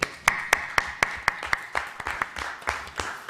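Applause closing a session of a live surgery workshop, a small group clapping in a loose rhythm, a few sharp individual claps standing out at first before blending into a softer, thinning patter.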